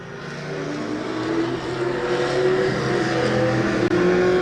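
Race cars roar past together on a flying restart at a motorsports park, a loud, sustained blend of engines climbing in pitch as they accelerate, with no talk over it.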